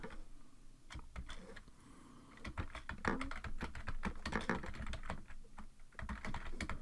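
Rapid, uneven clicking of keys on a computer keyboard, close and fairly quiet, in bursts with short pauses, while HTML code is typed; no speech.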